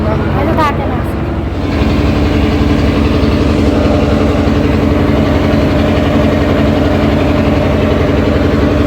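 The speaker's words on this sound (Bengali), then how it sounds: "অনেক বড় লঞ্চ" A large passenger launch ferry on a night trip from Chandpur to Dhaka runs its engine with a loud, steady, low mechanical drone and vibration throughout. Faint voices can be heard near the start.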